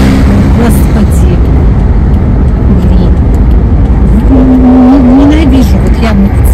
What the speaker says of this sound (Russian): Ненавижу вот я мотоциклистов, реально, просто они так несутся